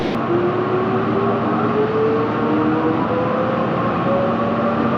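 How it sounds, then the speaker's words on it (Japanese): A Meitetsu Nishio Line train at a station, a loud steady rumble with a faint rising and falling whine running throughout. "新安町からは西尾線の西尾行きの電車に乗車したいと思います。"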